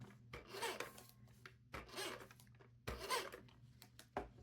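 Several short, dry rasping strokes from a tape runner laying adhesive on paper during card journal crafting, close and quiet, separated by brief pauses.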